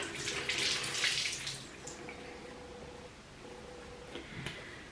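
Tap water runs while a skincare brush is rinsed at a sink. A soft, steady splash is strongest in the first two seconds, then continues more quietly with a few light knocks.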